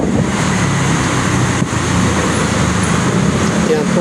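Dense road traffic on EDSA in Manila, outside the Philippine National Police headquarters, makes a steady, unbroken roar of passing cars and buses. It is close and loud throughout, with no clear gaps.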